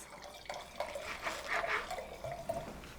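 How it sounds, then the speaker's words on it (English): A drink is poured into a glass, giving a soft trickling splash that rises and falls over a few seconds at close range, quiet against the background. "You pour it in a girl's glass"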